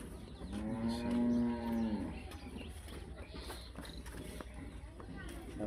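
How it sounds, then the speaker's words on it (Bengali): A Jersey cow lets out a single long, deep moo close by, followed by shuffling hoof and movement noises on a farm. "খুবই সুন্দর একটা গাভী আপনাদেরকে দেখাচ্ছি।"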